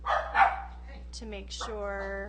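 Dogs bark and yip close by in a few quick, sharp bursts mixed in with someone speaking indoors.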